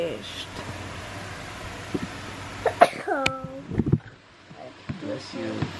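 A young child gives a short sneeze or cough-like burst indoors, followed by a few quick breaths and small vocal sounds, close and fairly loud over a soft fan-like background hum.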